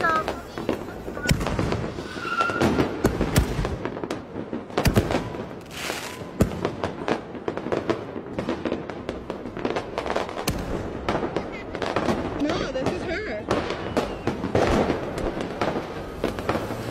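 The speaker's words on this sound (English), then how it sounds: "a Karen upset with her neighbor's 4th of July fireworks" Neighborhood Fourth of July fireworks, a dense run of sharp pops and crackling bursts at irregular intervals from a moderate distance, with people talking faintly in between.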